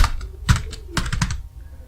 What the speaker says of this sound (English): I will type my channel